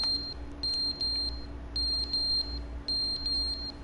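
A carbon monoxide detector in The Stanley Parable video game sounds in rapid bursts of high, piercing electronic beeps, grouped in regular clusters about a second apart, loud and close over a low hum.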